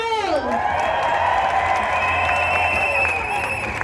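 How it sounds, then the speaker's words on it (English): At a street protest in Denver, a crowd claps and cheers for a speaker, with loud whoops and shouted voices rising over a steady patter of applause that continues throughout. "One more round of applause for Carol!"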